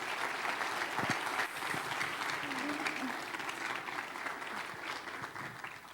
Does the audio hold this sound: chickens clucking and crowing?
no